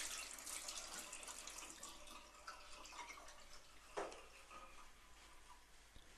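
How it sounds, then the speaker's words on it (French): Water running and splashing at a sink as someone washes their face, a steady hiss of tap water with small splashes, fairly faint and with no talk. "Il se lave et jette de l'eau sur son visage."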